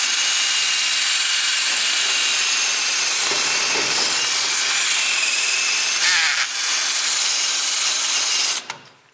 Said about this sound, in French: quand on commence à mettre un coup de brosse